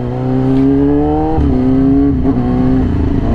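A Yamaha R6 sport motorcycle with a loud aftermarket exhaust and flashed tune drones steadily under light throttle, its raspy engine note dipping briefly and then holding even, close and loud with no talk.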